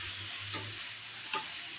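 Ivy gourd and tomato curry stirred in a pan, two brief scraping strokes of a spoon over a faint low sizzle, close and fairly quiet.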